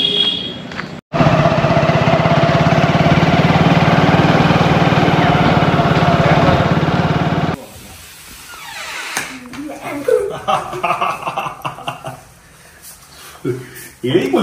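A motorbike engine runs loud and steady at close range for several seconds, then cuts out, leaving street noise and scattered voices.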